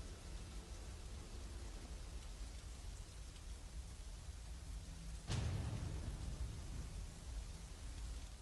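Steady rain hisses evenly throughout, soft and diffuse, with a sudden louder crack or impact partway through after which the downpour sounds heavier.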